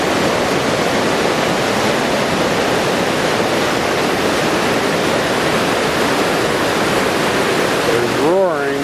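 Roaring water of the Sacred Dancing Cascade, a loud, dense, continuous rush of whitewater close by, with a brief voice rising over it near the end.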